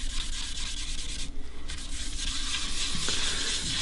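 Steel wool rubs across the finished wood of a custom hollow body guitar, a dense, continuous scratchy scrubbing close by, with a brief lighter pause partway through.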